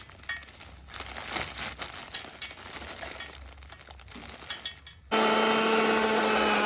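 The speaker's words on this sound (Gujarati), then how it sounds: "આમાં ધાણા નાખી અને આપણે મિક્સરમાં આને પીચી નાખવાનું છે" A kitchen mixer grinder switches on abruptly to grind coriander chutney, a loud steady whirring motor drone that starts after several seconds of rustling and handling noises.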